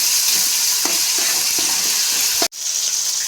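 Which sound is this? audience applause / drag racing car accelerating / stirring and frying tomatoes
stirring and frying tomatoes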